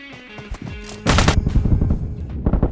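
Gunfire in the mobile battle royale game BGMI (PUBG Mobile): a few light shots, then loud rapid automatic bursts for the rest of the moment, with no talk.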